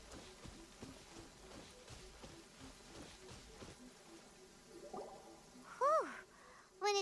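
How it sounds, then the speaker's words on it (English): Steady rain patter falls in the video game Genshin Impact, a soft continuous wash with brief voice-like calls rising near the end. "Let us find shelter from the rain."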